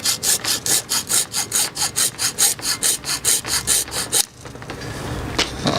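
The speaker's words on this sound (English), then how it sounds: "We'll see if we can make the hacksaw cut through this stuff." A hacksaw cuts through aluminium sail track in quick, even back-and-forth strokes, about sixteen close rasping passes, then stops, leaving quiet handling noises.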